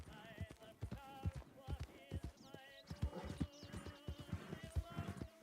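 Horse hooves clip-clop in a steady, brisk rhythm in the western video game RedM, close and continuous under a layer of music and ambient game sound.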